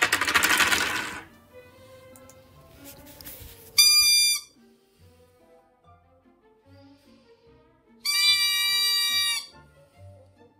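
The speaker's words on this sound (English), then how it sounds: "I can blow them. And it just so happened I had these birdie whistles" Birdie whistles mounted on a hard hat and blown by the wearer, two bright warbling trills, each about a second long, rising out of near silence with faint clicks and soft taps between them.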